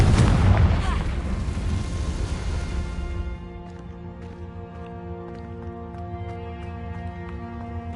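A Confringo spell explosion in a Hogwarts video game: a loud close blast that rumbles and decays over about three seconds into a quiet tonal ambience with faint chimes.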